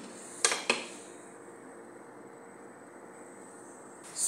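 A metal lid goes onto a pan of frying garlic with two quick, sharp clanks close together, followed by a soft, steady background hiss.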